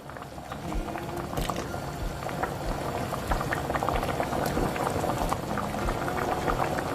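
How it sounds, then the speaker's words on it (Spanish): A pot of chicken stew with tomato and potatoes bubbles at a steady boil, a dense, continuous simmering burble with small popping bursts throughout, close and fairly loud, with no talking. "Y ahora que ya esté hirviendo, vamos a agregar las papas."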